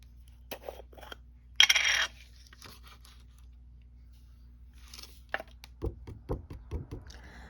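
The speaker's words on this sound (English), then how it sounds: "Let's sprinkle the embossing powder on." Embossing powder sprinkled onto paper for a card-making project gives a brief, close granular rustle and patter lasting under a second, followed by quieter handling noises and a few soft taps.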